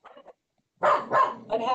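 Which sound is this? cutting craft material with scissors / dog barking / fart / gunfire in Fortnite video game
dog barking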